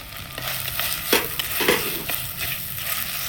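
Chopped small onions and crushed onion sizzle steadily in a hot pan for village-style country chicken soup, with a few scraping stirs cutting through the constant close frying hiss.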